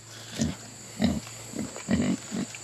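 Pigs on a farm grunt in five short, close bursts spaced roughly half a second apart, low and throaty, with quiet pauses between.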